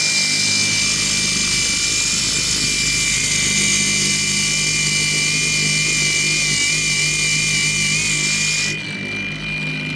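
An angle grinder screams continuously against metal, loud and close, its pitch wavering slightly before the tone drops off near the end.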